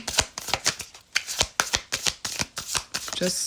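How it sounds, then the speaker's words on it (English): Tarot cards shuffled by hand in rapid clumps, a run of crisp riffling bursts repeating at a steady rhythm, close and fairly loud with no talking. "They're shuffling like in clumps right now."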